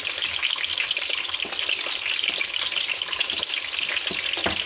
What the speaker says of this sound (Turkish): İç harcım burada güzel bir sotelensin.